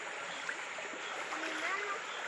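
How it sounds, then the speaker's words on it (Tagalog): After a flood, a strong stream rushes steadily with broad, hissing, gurgling water at moderate distance. A voice speaks briefly over it. "oh, ang lakas ng tubig ano"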